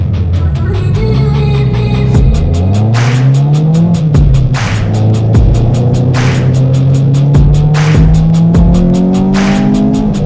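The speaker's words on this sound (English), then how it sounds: "we are in JR's EK, and we're going out for the first session" A Honda Civic EK laps a race track, its engine revving hard through repeated gear shifts with sharp cuts between pulls and a brief tire squeal, loud and close throughout.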